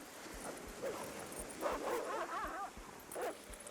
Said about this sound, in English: Oops, that's a dog.